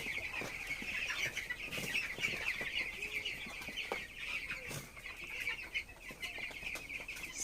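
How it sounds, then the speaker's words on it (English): About 303 broiler chickens, around 18 days old, clucking inside a brooding house, a dense, continuous chorus of overlapping clucks and chirps throughout. "I have altogether 303 broilers inside this brooding"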